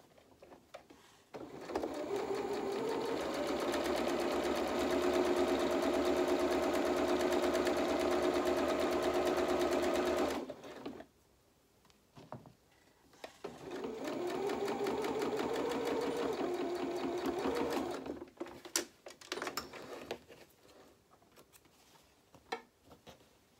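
Sewing machine stitching the seam of a small polka dot doll dress, a fast even whir that runs about ten seconds, stops, then runs again for a few seconds, with quiet handling clicks between.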